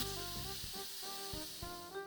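An Instant Pot pressure cooker set to vent lets out a steady, close hiss of escaping steam that runs unbroken for about two seconds, with a low tonal hum underneath and no talk.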